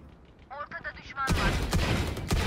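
Rapid video game gunfire bursts in loud, sharp, repeated shots after a short stretch of quieter chirping sounds, with a player's voice speaking over it.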